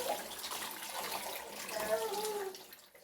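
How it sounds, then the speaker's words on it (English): Hot water drained off boiled carrots, a steady close rushing stream of liquid that fades away near the end. "I'm just draining the water so that hizi carrots zisiendelee ku overcook"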